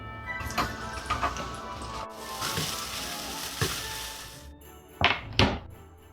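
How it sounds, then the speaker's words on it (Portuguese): Steady sizzling hiss of garlic sautéing in oil in a pan, with a few clanks and knocks of utensils against it. "Agora eu vou refogar. Eu vou colocar aqui na panela 2 fios de óleo."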